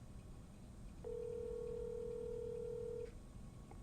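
A telephone call rings out unanswered: a single steady electronic ring tone holds for about two seconds against a quiet background hiss, then cuts off.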